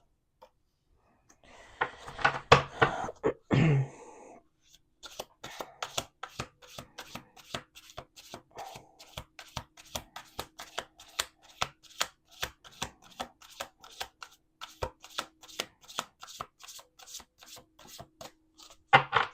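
Cards are riffled in a brisk flutter, then a long run of soft, regular taps and flicks as the deck is worked, close by.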